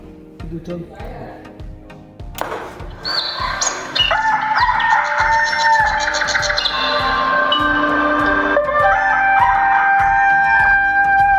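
A loud rooster crow blares through a temple loudspeaker music system, long and drawn out, over a steady rhythmic thumping in the background.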